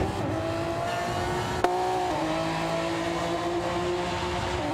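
Race cars lapping a circuit in a racing video game, engines droning steadily at high revs with a brief sharp knock partway through, close and continuous, no voices over it.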